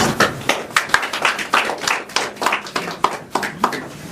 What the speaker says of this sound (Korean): 여기서 박수가 한번 나와야 됩니다.